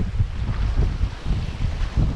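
Strong gusting wind blows across a stand-up paddleboard rigged with a sail in stormy, high-wind conditions, a steady close buffeting roar on the microphone with no talking.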